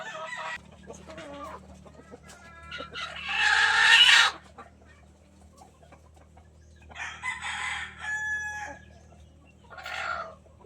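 Farm chickens cluck in short bursts while a rooster crows loudly several times, with quieter gaps between calls over a low steady background hum.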